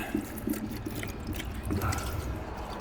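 Hot engine oil drains steadily from a Lexus RX during an oil change, a continuous liquid trickle with small dripping splashes that stays fairly even in level throughout, with no talking.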